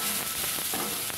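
Bitter gourd sautéing in oil in a pan, a steady close sizzle with faint stirring scrapes, heard alone.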